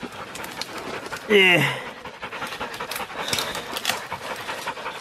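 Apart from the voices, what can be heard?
dogs panting after a pig hunt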